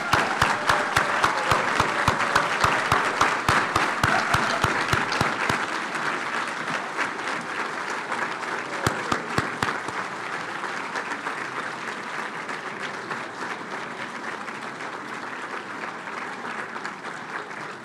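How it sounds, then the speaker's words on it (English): Graduates at a PA completion ceremony give family and friends a sustained round of applause, loud and full at first with sharp nearby claps, then gradually thinning and softening over about eighteen seconds. "give them a raucous round of applause"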